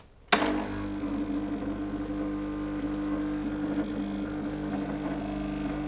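A coffee machine's pump switches on with a sudden thump, then keeps up a steady droning hum as it draws acidic descaling water into the boiler, continuous and fairly loud with no talk.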